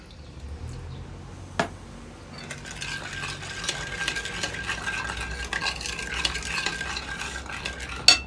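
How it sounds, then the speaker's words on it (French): A mixture stirred in a kitchen pan or bowl, a sharp knock early on, then continuous scraping and rustling strokes close by with a faint sizzle underneath and a final clink at the end, no talking. "Continuez à mélanger."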